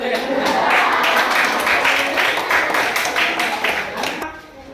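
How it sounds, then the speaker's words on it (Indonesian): A group in a classroom-style academic coaching session claps together in a brief, steady burst of applause that tapers off toward the end. "Oke, tepuk tangan."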